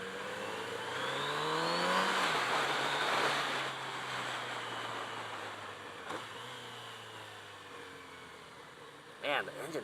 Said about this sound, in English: I love the sound of the inline four